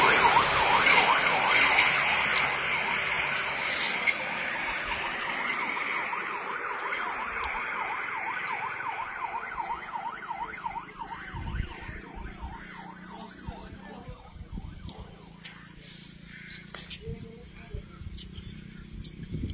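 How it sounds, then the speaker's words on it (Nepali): An ambulance siren wails loudly and steadily at first, then fades into the distance as it moves away, with traffic noise and people talking over the later part. "एम्बुलेन्स पनि आउँछ"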